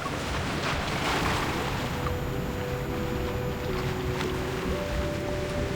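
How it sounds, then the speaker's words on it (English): Ocean waves wash continuously in the Love and DeepSpace video game, a broad, steady surf roar mixed with faint breeze and soft sustained musical tones underneath. "The waves sweep away these fragmented memories."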